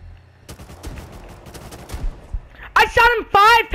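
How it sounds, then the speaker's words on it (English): Gunfire in the survival game Rust: a handful of sharp shots crack out sparsely at first, then a louder close burst of rapid shots near the end, with a voice talking faintly underneath. "I shot him 5 times!"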